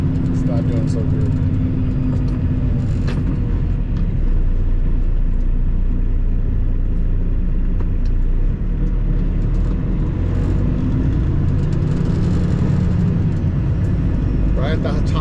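A loaded semi truck pulls in top gear at highway speed, producing a steady, loud, low engine drone and road rumble that holds throughout, with a voice talking over it.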